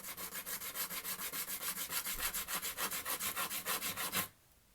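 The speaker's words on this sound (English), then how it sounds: "just sand the backside just a little bit" A bass guitar fret nut is sanded on a flat surface with about twenty quick, even back-and-forth rasping strokes, close and steady, before stopping abruptly.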